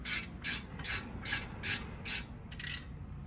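A ratchet clicks in seven quick, evenly spaced bursts while being worked on a brake caliper bracket during a rear brake job on a Mercedes GLC 300, close and fairly quiet with no talking.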